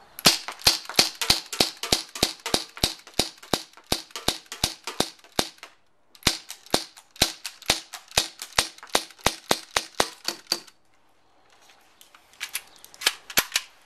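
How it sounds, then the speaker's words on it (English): A Tokyo Marui HK Mk23 SOCOM airsoft pistol fires in two long runs of sharp, snappy, evenly spaced shots, close and loud. A brief pause splits the runs, and a few more shots follow after a quiet gap. "Firing test without accessories."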